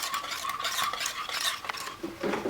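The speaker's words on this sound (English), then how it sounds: "So now we're going to whisk in the chocolate chips into the cream and hazelnut mixture." A whisk beating chocolate chips into a cream and hazelnut mixture for macaron filling, rapid rhythmic scraping and swishing against a bowl, close and continuous with slight pauses.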